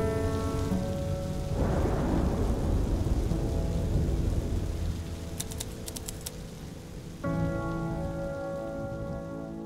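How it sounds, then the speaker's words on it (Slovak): Steady rain falls during a night storm, a dense hiss on a surface with a low rumble of thunder rising and fading. Sustained tonal music plays over it, and no one speaks. "bolo naozaj škaredé počasie, množstvo búrok a lejakov"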